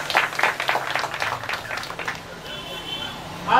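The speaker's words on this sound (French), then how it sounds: "Est-ce qu'on peut applaudir pour lui, s'il vous plaît?" Audience applause at an outdoor inauguration ceremony for a new borehole: a dense burst of many hands clapping that is loud at first, then thins and fades, with a steady tone underneath toward the end.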